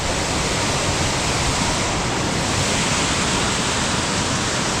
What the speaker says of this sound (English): This is a nice little waterfall known as Creation Falls, right down the trail from our destination.